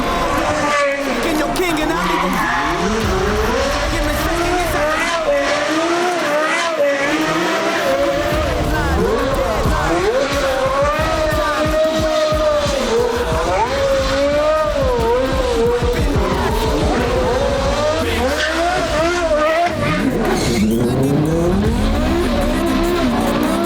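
A Porsche Carrera GT supercar driven hard, its engine loud and continuous with rising and falling revs and some tire squeal, while people talk over it throughout.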